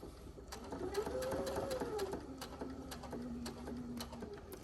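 A sewing machine stitches quilt binding at a slow, steady pace, its needle ticking in an even rhythm over a soft motor hum that rises and then settles.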